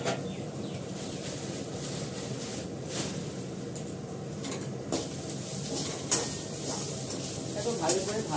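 Food frying in a pan on a home stove, stirred with a utensil that clinks and scrapes against the metal now and then over a steady sizzle, close up and moderately loud.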